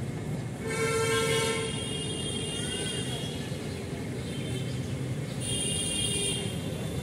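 A train rolls past with a continuous rumble of wheels and carriages, and its loud horn sounds twice, once for about a second early on and again near the end.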